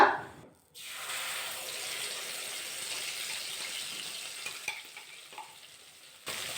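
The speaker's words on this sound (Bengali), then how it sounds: "কালো জিরেটা ভাজা করে নিয়েছি এবার এর মধ্যে অ্যাড করে দেব সর্ষে পোস্ত বেটে রেখেছিলাম সেই মশলাটা" A mustard-poppy paste with fried black cumin goes into a hot pan for an aubergine and flat bean dish. It sizzles continuously at close range, with soft stirring scrapes and no talk.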